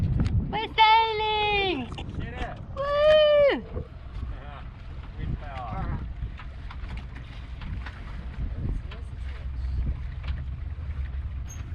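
A sailboat moves under wind power at sea, with wind buffeting the microphone and water rushing past the hull. Excited shouting voices come early on, then a softer, continuous rush of wind and water.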